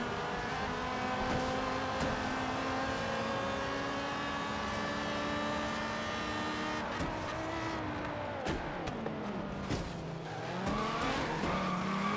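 Race car engine in the Forza Horizon 3 video game droning steadily at high revs, then tires squealing and skidding as the car spins out around the middle, followed by the engine pitch dropping and climbing again.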